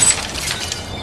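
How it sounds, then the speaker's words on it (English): A glass coffee table shatters after being thrown off a 20-story building, a brief bright crash of breaking glass with tinkling shards trailing off, heard alone. "Now a stylish glass coffee table."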